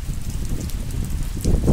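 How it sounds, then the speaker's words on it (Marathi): Heavy rain beats down on a rural road by farm fields, a loud, steady wash of noise that swells in the final moments, with no talk over it. "हे बघा किती जोरात पाऊस आलाय"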